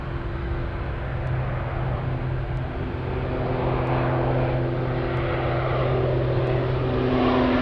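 A Nippon Cargo airliner arriving at Anchorage airport, its engines a steady, continuous rumble and whine held at even loudness throughout, with no voices.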